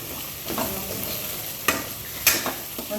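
Chopped tomato and carrot sizzle steadily in a pan for upma, with soft stirring scrapes and a couple of sharp utensil clinks over a continuous low crackle.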